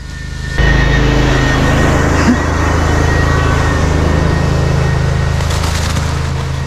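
A concrete truck runs at a job site, its diesel engine a loud, steady low drone that starts abruptly and holds close by, with a brief clank midway and no talking.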